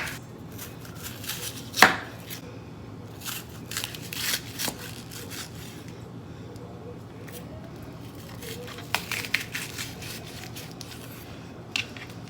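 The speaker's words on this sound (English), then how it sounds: "Now I'm going to go ahead and slice up that onion and add it to it." A sweet onion being sliced with a knife on a cutting board, with repeated close cutting taps and strokes, one sharper knock early on, over a faint room hum.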